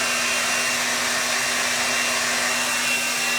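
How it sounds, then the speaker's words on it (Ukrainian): A rotating attachment on a 5-in-1 hot-air hair dryer brush runs as a steady, even whir with a constant motor hum and broad airflow hiss, loud and close, with no voices. "я цю насадку ще навіть не пробувала, а вона теж крутиться"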